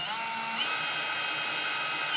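Cordless drill fitted with a pilot-bit hole saw cutting through a pickup truck bed, a steady high-pitched whine and grinding that holds continuously and loud from start to finish.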